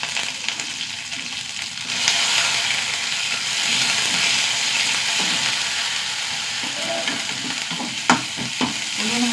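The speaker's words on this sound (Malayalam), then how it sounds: "ഉള്ളിയൊന്ന് മൂട്ടി വെക്കാം." Shallots, dried chillies and curry leaves frying in hot oil, a steady close sizzle with a spoon scraping and stirring through the pan and a few sharp knocks near the end.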